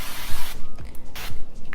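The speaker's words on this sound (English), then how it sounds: "I'm gonna hit them with a little spray of oil" Several short, close bursts of cooking oil spray are aimed at tofu cubes sitting in a stovetop pan, each hiss separated by a brief pause.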